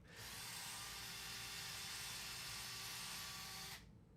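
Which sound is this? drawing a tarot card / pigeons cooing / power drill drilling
power drill drilling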